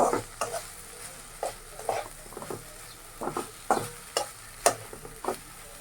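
Okra cooks uncovered in a pan, quietly sizzling under repeated scrapes and stirs of a spatula that come in irregular bursts, close and fairly soft, with no talking.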